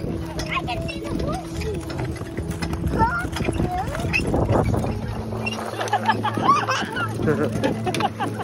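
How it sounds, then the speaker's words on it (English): Rhythmic clip-clop of four horses' hooves trotting on a hard surface at a horse farm, with people talking and calling out over the steady hoofbeats. "Now we have four horses."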